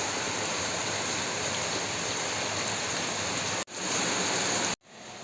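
Steady rain falling outdoors, a dense continuous hiss of drops on surfaces, loud and close, broken by two abrupt cuts.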